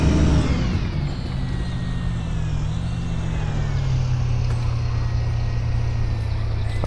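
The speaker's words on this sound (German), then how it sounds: "Ich will hoffen, der Bus ist nicht zu laut." City bus in the OMSI 2 bus simulator, a steady engine drone with low rumble and rising whine as it pulls away, continuous and close with no talk.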